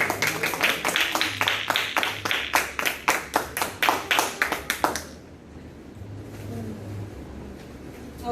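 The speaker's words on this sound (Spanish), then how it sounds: "Un aplauso para el niño" A small group in a Spanish-language Bible study class claps for a child, with a steady run of crisp, rhythmic handclaps lasting about five seconds before stopping abruptly into quiet room tone.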